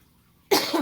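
A single sharp cough after half a second of near silence, followed by a rough throat-clearing rasp, close and fairly loud.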